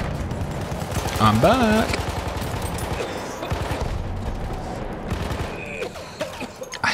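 Hellriegel submachine gun fire in a multiplayer conquest video game, rapid bursts rattling near and far amid battlefield chaos, with someone talking briefly over the shooting.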